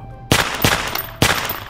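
Toy shotgun firing three sharp, loud broadband shots, the first after a short silence, then two more at uneven intervals of roughly a second, each with a brief decaying tail.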